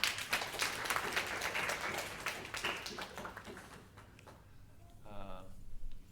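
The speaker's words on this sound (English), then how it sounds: "So again, another round of applause." A crowd at a Buddhist talk on concentration gives a dense round of applause that fades out after about four seconds, and a voice follows briefly at the end.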